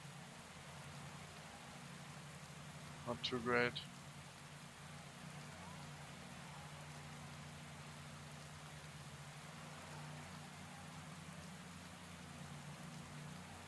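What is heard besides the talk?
rain in video game Pro Cycling Manager 2017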